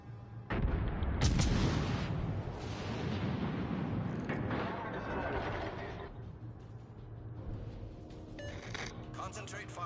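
Heavy battleship guns boom in a naval video game, a deep blast followed by rumbling artillery fire and echoing impacts, with a voice talking over the din.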